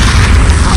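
A grenade explosion in Halo SPV3, a single loud, deep boom filling the short moment with rumbling low-end force and no speech.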